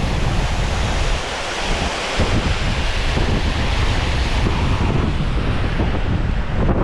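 Roaring waterfall at Hells Gill beck with spray blown back up by strong wind, a loud, steady broadband rush of falling water and gusting air close to the microphone, continuous throughout with no talk.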